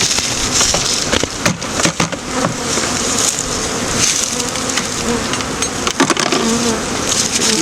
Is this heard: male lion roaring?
no